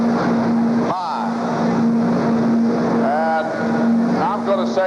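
A super stock pulling tractor at a 1985 Indy Super Pull roars steadily and loud throughout, a sustained engine drone with revving swells, while announcers talk over it.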